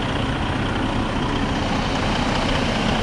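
A truck engine idles steadily in a snow storm, a constant low rumble with a broad hiss, close and loud without a break, and no one speaking.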